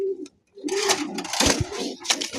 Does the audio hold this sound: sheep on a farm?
no